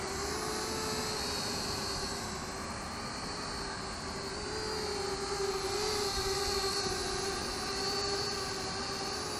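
An Eachine E56 selfie drone flies nearby with a steady, high-pitched whirring buzz from its small propellers, continuous and fairly even throughout, with no talking.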